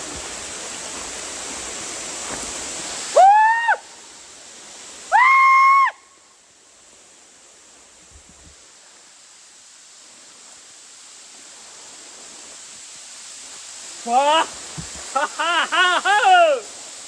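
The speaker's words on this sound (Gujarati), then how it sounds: "જો અહીંયા ધોધ છે ને" Constant roar of Anjani Waterfall near Saputara, Gujarat, fills the clip, with a few short shouted or sung voice bursts rising above it in places.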